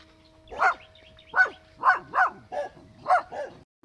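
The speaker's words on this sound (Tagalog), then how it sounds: "Tapang ng aso." A dog barking near cornfields, about seven sharp barks in a fairly regular series, fairly close and clear over quiet surroundings.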